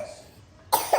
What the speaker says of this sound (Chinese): 哎呀，咳嗽了